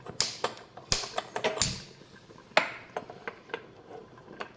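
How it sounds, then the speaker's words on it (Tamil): Stove igniter clicking repeatedly in a home kitchen, a quick irregular series of sharp ticks and snaps, fairly quiet and close, with no talk. "அடுப்பை பற்ற வச்சுக்கிறோம்"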